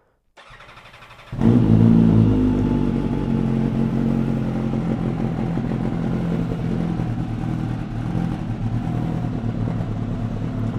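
An MV Agusta Brutale 1000RR with an undertail quad-pipe exhaust cold starts: a brief starter crank, then the engine catches with a loud bark and settles into a steady, rumbling high idle close by.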